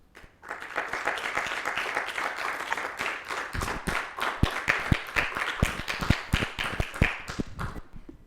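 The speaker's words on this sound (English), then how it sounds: "I don't know if you heard us clapping" Applause from an audience at a mathematical physics lecture, many hands clapping steadily and densely for several seconds, fading into scattered claps near the end.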